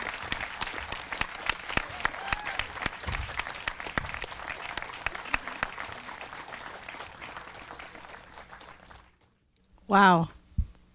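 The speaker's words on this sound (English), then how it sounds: "Can we give another round of applause, please, to these amazing speakers and musicians and all of our graduates?" Sustained crowd applause at a college commencement ceremony fills most of the span, then fades near the end before a brief burst of sound.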